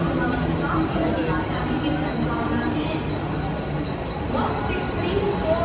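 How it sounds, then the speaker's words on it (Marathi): A local train pulls into a busy station platform, its rumble and wheel noise steady and loud throughout, with crowd voices and talk mixed over it. "ट्रेन आलेली आहे, याच्यात"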